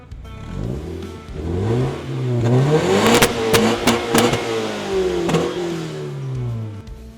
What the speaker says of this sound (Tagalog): kahit naka full exhaust siya, maririnig mo na hindi siya ganun kaingay kasi TRD siya